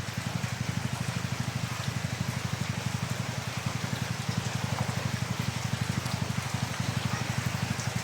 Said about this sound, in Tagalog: Grabe yung ulan na nilo, makikita nyo yan.